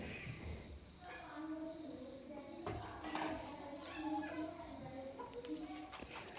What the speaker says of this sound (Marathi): हे सगळं चिकटलेलं असं चमच्यानं काढून घेतलं